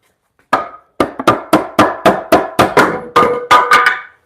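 A wooden peg being hammered out of a mortise and tenon joint on a wooden bunk bed: about a dozen sharp, close hammer blows in a steady rhythm, alone with no talk.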